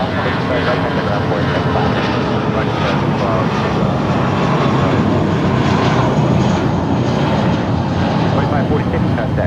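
An American Airlines Airbus A319 at Los Angeles International Airport fills the air with a loud, constant jet engine roar, steady throughout, with air traffic radio chatter faintly mixed in.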